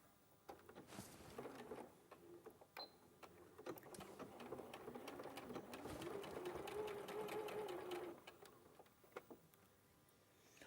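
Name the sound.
sewing machine stitching fabric seams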